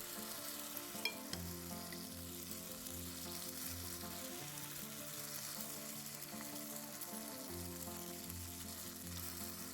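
Potato batter spread thin like a pancake fries in oil in a pan, a faint, steady sizzle heard alone throughout, with an occasional light clink.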